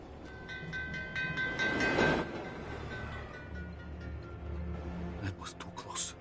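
A moving train in the game Assassin's Creed Chronicles: Russia gives a steady rolling rumble with a brief louder swell midway, beneath a soft game soundscape.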